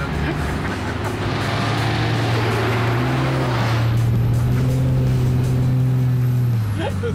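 A diesel Chevrolet Suburban with a 4-inch exhaust idles loudly up close, a deep steady rumble that rises slightly in pitch partway through and then settles, with no talking over it.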